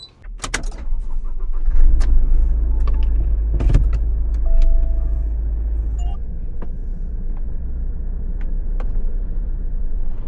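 A HAYATE camper van, a compact campervan smaller than an Alphard, drives along a road. A steady, loud low engine and road rumble runs throughout, with a few light clicks and rattles from inside the cabin.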